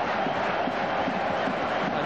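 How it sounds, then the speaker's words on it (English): Crowd at a 1991–92 County Championship rugby union match between Cornwall and Lancashire, a steady roar of massed voices building with excitement, broad and distant, without distinct words. "Now the crowd's excitement builds"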